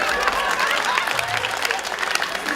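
An audience at a charity gala claps continuously, a dense, fairly close patter of hands with a voice faintly mixed in.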